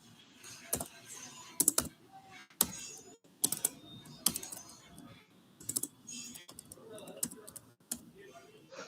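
Computer keyboard keys tapped in short irregular bursts while a username and password are entered, close and fairly clear with quiet gaps and faint voice between.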